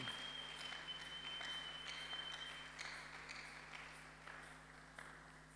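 Church congregation applauding during a pastor's sermon, a steady wash of clapping that stays fairly quiet and distant throughout, with a constant electrical hum and a faint ringing tone beneath it.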